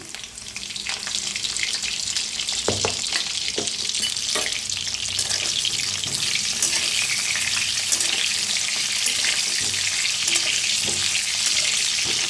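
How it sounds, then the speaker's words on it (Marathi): Potatoes sizzling in hot oil for dum aloo, a loud, steady, close frying hiss throughout, with occasional stirring clinks. "तर पहिलं बटाटा आपण चांगलं फ्राय करून घ्यायचे तेलात"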